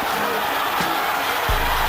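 Boxing arena crowd during Andrzej Golota's fight, a dense, loud roar of cheering and shouting that swells steadily, close and continuous throughout.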